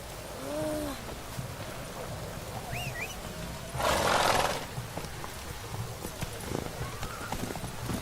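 Roach the horse gallops in The Witcher 3, hoofbeats pounding in steady rhythm beneath game ambience, with a brief whinny early on and a loud rushing burst midway, no speech.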